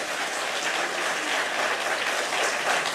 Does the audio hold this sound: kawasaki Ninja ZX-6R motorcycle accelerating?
no